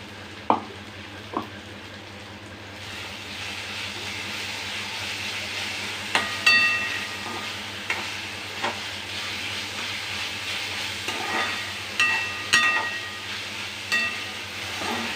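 Ginger garlic paste frying with cooked onion and tomato for a jackfruit seed vegetable dish, a steady hissing sizzle with occasional spatula knocks and stirring scrapes, close and moderate, no voices.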